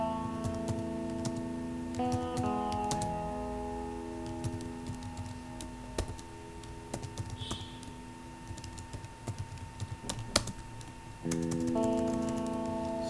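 Computer keyboard typing while writing Java code, a steady stream of close, light key clicks with short pauses, over a constant electronic hum and no talking.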